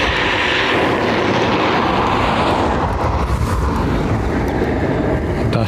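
A Qatar Airways Boeing 787 arrives at Dublin Airport in high wind, a loud continuous broadband engine roar that holds steady throughout with heavy wind noise.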